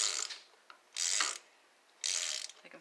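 Ratchet tightening a spark plug in a 2015 Chrysler 200 Limited engine, three short close ratcheting bursts separated by brief quiet gaps, fairly faint.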